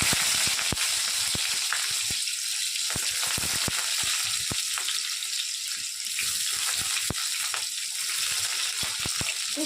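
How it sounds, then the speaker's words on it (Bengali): Chopped onion hits hot oil in a pan, giving a loud, continuous sizzle with scattered crackles and pops throughout, close and steady. "তেলটা গরম হয়ে গেছে, আমি এবারে পেঁয়াজ কুচিটা দিয়ে দিচ্ছি।"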